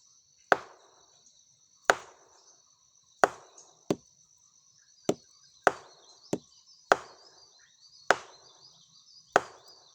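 Hardwood beater made of akar pengkih wood pounding the pith of a sago palm trunk, about nine heavy, evenly spaced thuds in a slow steady rhythm, close and alone over a constant high insect drone.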